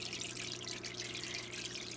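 Water from the shower attachment of a Likein foot spa runs in a steady, continuous hiss, close and fairly loud, with no pauses across the stretch.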